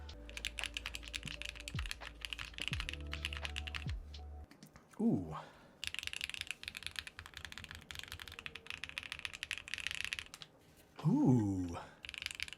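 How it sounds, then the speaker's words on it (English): A mechanical keyboard with a PBT spacebar clacks through bursts of quick, close typing, the dense keystrokes broken by short pauses, while a voice briefly murmurs between runs. "whatever issue is causing this PBT spacebar to have like a weird sound on bottom out"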